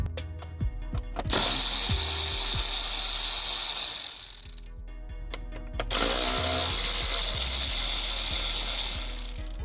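Ratchet wrench backing out the coolant reservoir bolts on a Lexus IS250 engine during a water pump job, loud close rapid clicking in two long bursts separated by a short pause.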